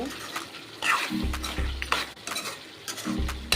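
Spice powder stirred into Chettinad chicken in a pan, with repeated scraping strokes of a spoon against the pan over a steady sizzle, close and moderately loud.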